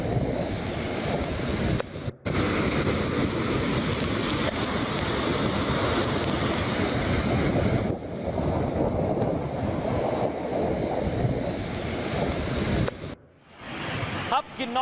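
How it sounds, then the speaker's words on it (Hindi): Fast-flowing flash flood water in Kinnaur, Himachal Pradesh, where a road was washed away, roars continuously and loudly with a wind-like rush, broken by a few brief cuts. "दिखाइए जरा पानी का बहाव कितना तेज है"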